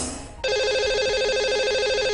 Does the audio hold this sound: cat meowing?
no